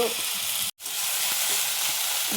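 Onion, ginger, garlic, crushed chili, curry leaves and chopped tomato fry in a pan with a dense, steady close sizzle, broken by one brief cut to silence.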